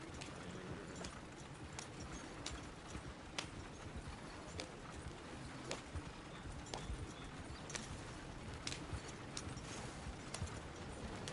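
Horse hooves clip-clop steadily on the ground in the video game Red Dead Redemption 2, a quiet, even walking rhythm with faint sharper knocks now and then.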